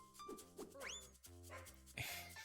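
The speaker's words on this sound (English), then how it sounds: "We've got a dog." A dog yips and barks a few times in the video game Let There Be Cat, set against busy game music and effects, with short rising whines between the barks.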